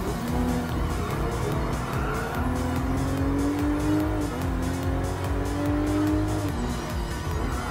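Racing cars in Gran Turismo Sport, including a Toyota GR Supra RZ, produce a loud, sustained engine roar with rising and falling revs and tire squeal through the turns, heard without any speech.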